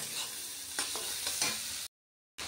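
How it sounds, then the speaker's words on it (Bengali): Meat being stir-fried (kosha) in a pan with a little potato sizzles steadily up close, broken by a few scraping stirs, then cuts out briefly before resuming. "তো দেখো মাংস কষানো হচ্ছে"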